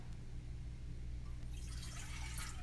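Water poured into a cup while making a chocolate syrup, a faint hum alone at first, then a soft, bright trickling splash rising in the second half and running to the end.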